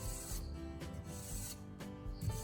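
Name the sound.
knife blade sliding through bottle cap sharpener channel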